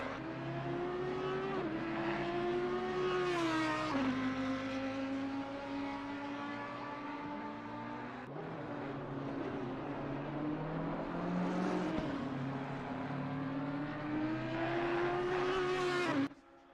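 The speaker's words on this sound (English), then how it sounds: "Just the Audi engine just screaming." An Audi race car in a sim racing game at Zolder, its engine screaming at high revs with rising and falling gear-change sweeps, loud and continuous throughout.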